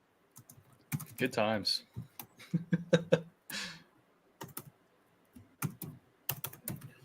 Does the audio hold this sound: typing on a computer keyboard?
yes